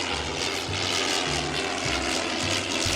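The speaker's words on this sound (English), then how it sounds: "This is a triplane. It has three wings stacked on top of each other and was mainly used during World War I." A World War I triplane with three stacked wings flies by, its propeller engine giving a steady buzzing drone with a rhythmic low throb at a moderate distance.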